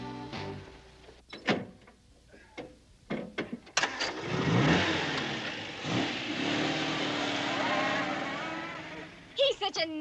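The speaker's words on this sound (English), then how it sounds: "You'll see a puff of smoke from my exhaust when I cut in the motor." A car engine kicks in with a burst of revving after several sharp clicks and knocks, then roars and surges with rising and falling pitch for several seconds, with people talking around it.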